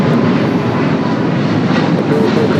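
A United Boeing 777 airliner takes off at Los Angeles airport, its jet engines making a loud, broad, continuous roar that fills the whole short stretch with no voices.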